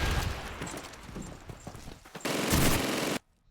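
Rapid machine gun fire from a double MG in Call of Duty 2 rattles in dense bursts, growing into a loud, sustained volley before cutting off abruptly.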